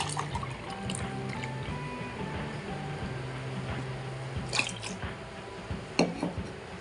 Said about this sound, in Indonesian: Tambahkan lagi air PDAM sebanyak 500 ml.